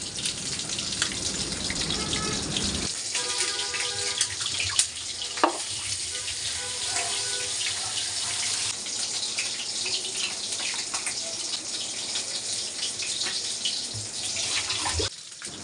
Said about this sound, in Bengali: আর এদিকে কচুগুলোকে আমি পরিষ্কার পানি দিয়ে ধুয়ে নেব